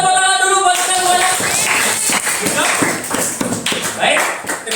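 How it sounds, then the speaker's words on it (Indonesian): Audience members at a training session clap their hands in an uneven, fairly loud patter after a sustained tonal sound fades, with some crowd noise mixed in. "tepuk tangan dulu buat kita semuanya"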